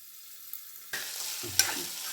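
Mixed vegetables cooking in oil for a vegetable sabji, a brief quiet stretch giving way to a steady close sizzle with a clink of stirring partway through.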